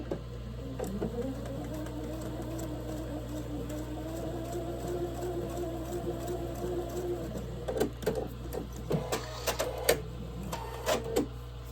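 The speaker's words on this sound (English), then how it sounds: "We're just sewing corner to corner." Home sewing machine stitching small quilt block pieces corner to corner for a watering can block, a steady continuous whir running for several seconds, then breaking into short stop-start bursts and clicks near the end.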